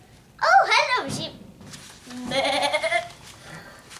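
A sheep bleats once, close and fairly loud, followed by a second, shorter bleating call after a brief pause; people are talking quietly nearby.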